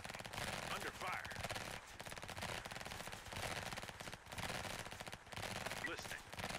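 Rapid automatic gunfire in an emergency dispatch video game, a steady rattling burst that runs almost continuously and fairly loud, with brief gaps and faint voices mixed in.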